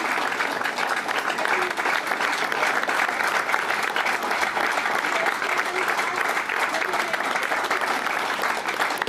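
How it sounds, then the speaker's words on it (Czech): Sustained audience applause for all the performers at a live Czech show, dense and steady throughout with a faint murmur of the crowd underneath. "Velký potlesk pro všechny, i pro Helču, pro Slunko,"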